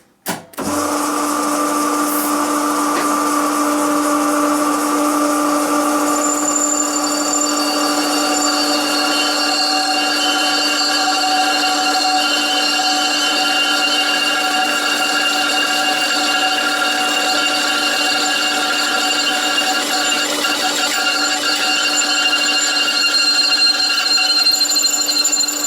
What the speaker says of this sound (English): start with this no-name high-speed steel drill bit and